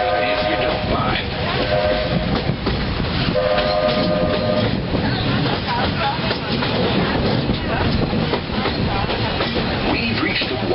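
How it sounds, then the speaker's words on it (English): A Magic Kingdom railroad train at Walt Disney World runs steadily with continuous rumbling and clacking wheels, a horn or whistle sounding early on, and faint voices underneath. "I'm staying safe and sound right here aboard my train"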